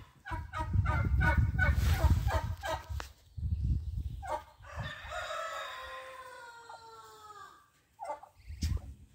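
Geese and ducks on a farm honk and squawk in irregular bursts, some loud and close, with a longer wavering call in the middle and brief pauses between.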